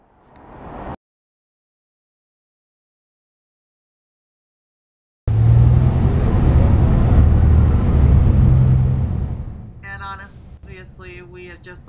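A South Bay Rapid bus pulls up to the stop on the Otay Mesa segment. A brief quiet gap gives way to a loud, broad engine rumble and rush, which fades into softer noise and faint voices at the end.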